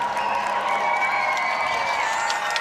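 A big crowd in Wales cheering loudly for the King, a sustained roar of voices with whoops and scattered clapping, steady and fairly close throughout.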